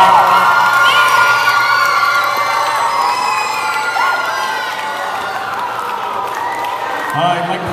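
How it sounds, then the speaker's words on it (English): A concert audience at a school rock band's final show roars with sustained cheering, whoops and children's shouts layered over steady applause, loud and close, with voices calling out throughout. "Big round of applause for BMT."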